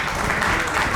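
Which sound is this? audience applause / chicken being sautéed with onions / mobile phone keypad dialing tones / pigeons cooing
audience applause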